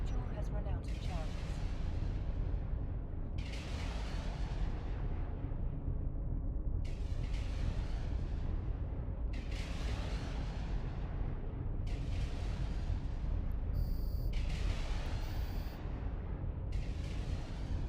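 Ship weapons firing in EVE Online, loud heavy volleys booming at a steady rhythm about every two seconds, each blast ringing out and fading over a constant low rumble.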